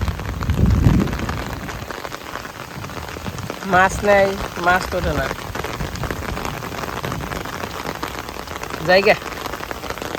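Heavy rain falls steadily across a rainy-season landscape in Bangladesh, a constant close hiss on the surface, with someone talking in bursts over it.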